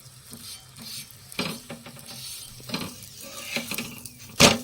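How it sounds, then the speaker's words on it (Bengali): Aloo paratha, a potato-stuffed flatbread, frying in hot oil in a pan, with a low steady sizzle broken by scraping spatula and utensil clatter, ending in a sharp metallic clank. "এখানে এখন পরোটা ভাজা হচ্ছে"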